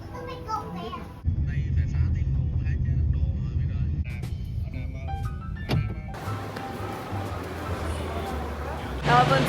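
Airport terminal ambience in Da Nang, Vietnam, at night: a steady low hum of ventilation and distant aircraft, with children's and adults' voices chattering nearby and occasional clinks and beeps.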